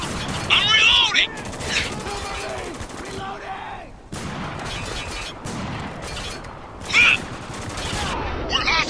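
Firefight in Spec Ops: The Line, with dense continuous gunfire and crackling impacts throughout, a brief cut to near silence midway, and shouted voices mixed into the battle noise.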